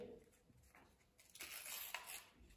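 A piece of paper is torn during a candle-lit ritual, a brief rustling rip that grows louder in the second half, close and fairly quiet.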